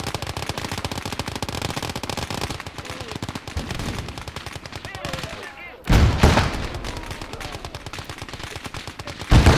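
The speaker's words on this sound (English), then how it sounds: "We got an anti-rifle fire." Rifle fire in a war video game, rapid bursts of loud gunshots crackling in a dense rhythm, with a heavier explosive crack near the end and a voice talking briefly amid the shooting.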